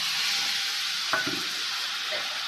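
Spice-soaked paste of ground spices, salt and turmeric hits hot tempering oil in a pan, giving a steady close hiss of frying, a single utensil clink midway and a faint stirring scrape.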